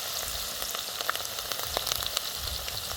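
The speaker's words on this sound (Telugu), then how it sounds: "ముందుగా తరిగి పెట్టుకున్న ఎర్రగడ్డ ముక్కలు వేస్తున్నా కరివేపాకు" Onion pieces and curry leaves frying in a pan, a dense, steady sizzle with small crackling pops, close and continuous, no voices.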